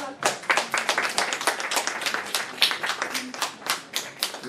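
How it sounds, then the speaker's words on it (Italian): A crowd at a poetry book launch claps steadily for several seconds, a dense patter of many hands at moderate volume with no talking over it. "un applauso al..."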